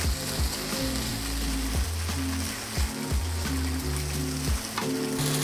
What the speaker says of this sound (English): you can stir them in, make sure they cook on both sides.